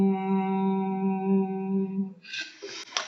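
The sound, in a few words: voice therapy hum after straw phonation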